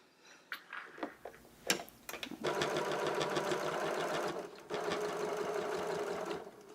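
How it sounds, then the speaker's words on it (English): A sewing machine quilts a fabric tortilla warmer: a few short clicks and taps, then a steady close-up whirring run that pauses briefly and resumes before stopping. "once you're done quilting this, we get to do it again"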